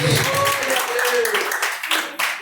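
Church congregation clapping hands loudly in praise during a service, dense rapid clapping under a voice that keeps talking over it, with a swell of applause toward the end.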